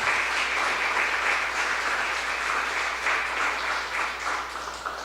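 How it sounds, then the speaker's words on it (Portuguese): A church congregation applauds together in a sustained, steady burst of clapping that fills the room evenly throughout. "Dê uma salva de palmas para o Senhor."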